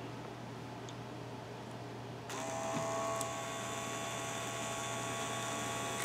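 A small electric motor in a K'nex robot build spins its gears, a steady whine starting partway through over a constant low hum, close and fairly quiet.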